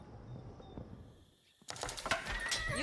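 Horses of mounted archers in Age of Empires IV neigh and whinny, a quiet call first, then a louder burst of whinnying and hoof clatter that swells toward the end.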